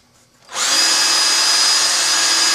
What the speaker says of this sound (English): We have a drill connector to the back in order to keep the drill going.